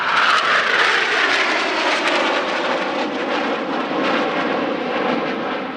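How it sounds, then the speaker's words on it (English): An F-5 Freedom Fighter jet rolling at the Radom Airshow 2023, its engine a loud, continuous roar that holds steady throughout with no talking. "A good look at the F-5's exceptional roll rate there"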